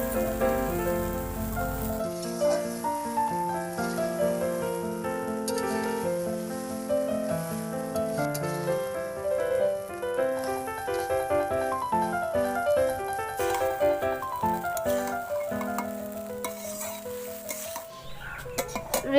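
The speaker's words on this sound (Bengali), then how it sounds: "এখানে আমি যে মুড়িটা রেখেছিলাম দিয়ে দেব।" Puffed rice and fried potatoes are added to a pan and stirred, making a light crackling, rustling texture that runs steadily under loud background music.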